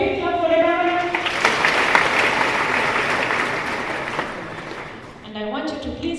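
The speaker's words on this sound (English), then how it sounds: "A big clap for the governor." An audience applauds the governor at a university institute launch in Kenya with loud, dense clapping. A voice speaks over the applause at the start, and speech resumes as the clapping fades near the end.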